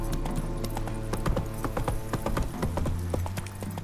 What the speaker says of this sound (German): Na, dann lasst uns mal zu diesen Olgierd fahren. Reiten, nicht fahren